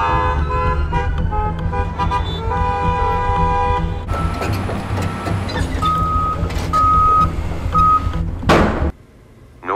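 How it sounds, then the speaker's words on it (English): City street traffic with vehicles rumbling past, car horns honking, and a repeated electronic beep like a reversing alarm, all loud and continuous with no talk. "Traffic, honking horns, and the incessant sound of construction are everywhere."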